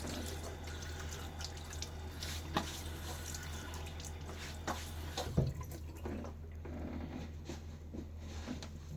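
Water runs from a tap at a shaving sink, a soft, faint trickle with occasional drips and light clinks near the microphone.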